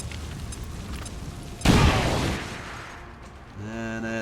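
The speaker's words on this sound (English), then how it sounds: "Joker, throw a grenade on the Rocketeer." A grenade detonates in XCOM 2 Long War of the Chosen with a sudden loud blast that decays into a rumbling tail, followed by a short tonal game sound at the end.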